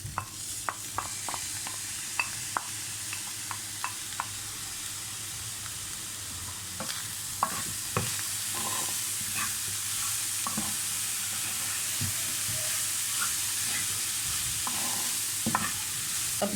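Medium onions cut into thin omelette-style slices, with green chillies, frying in a pan of oil; a continuous soft sizzle runs throughout, broken by scattered scrapes and clinks of a spoon stirring, with no talking.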